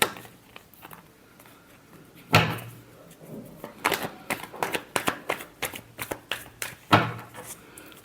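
Tarot cards are shuffled by hand in a series of crisp riffling bursts and slaps, close and fairly loud. Short pauses fall between the bursts.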